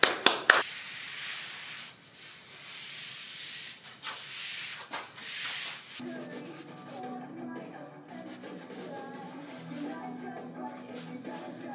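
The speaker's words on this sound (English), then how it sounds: "I was kind of intimidated by airless sprayers and just professional grade spray painting in general" Airless paint sprayer hisses in bursts as paint goes onto entry doors, loud rushing spray with sharp starts and stops, then fading to quieter background noise.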